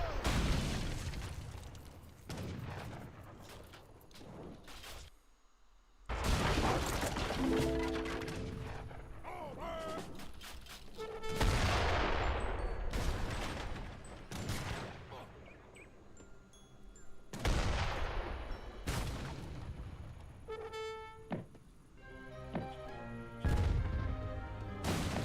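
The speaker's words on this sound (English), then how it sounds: "Mortar's doing a great job there in the back." Mortars in Age of Empires 3 Definitive Edition lobbing siege fire from long range: a string of heavy booms and blasts at irregular intervals, some clustered, some isolated, amid ongoing battle noise.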